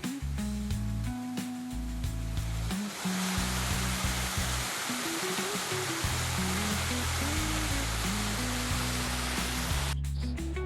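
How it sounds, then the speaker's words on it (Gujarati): A waterfall at Mota Khokhra pours steadily, a dense, continuous rushing roar filling the whole clip at close range, with low rumbling bursts and a brief dip near the end. "મસ્ત મજાનો ધોધ છે"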